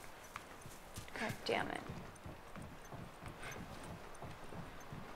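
Horse hooves clip-clopping at a walk in The Last of Us, a soft steady rhythm of hoofbeats under a brief spoken exclamation.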